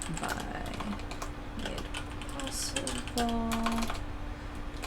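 Keys clatter on a computer keyboard typed at an awkward angle, a busy stream of quick clicks under a constant electrical hum, with a brief spoken word at the start.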